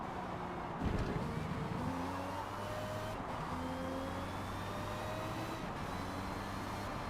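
A race car brakes at Silverstone in the video game Forza Motorsport 7. The engine tones drop and shift as it slows, over a steady wash of road and car noise.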